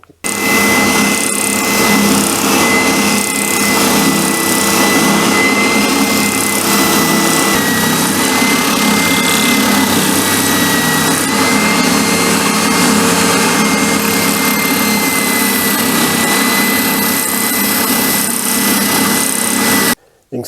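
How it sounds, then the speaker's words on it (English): A spindle sander roughly trims a wooden stock for a 1920 Ithaca double-barrel shotgun, a loud continuous motor whine with grinding contact noise running steadily for about twenty seconds. "I'm just going to take that off roughly with the spindle sander."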